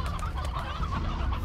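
Chickens on a Slime Rancher farm cluck steadily and overlap in a busy, continuous flock chatter that carries through the whole moment.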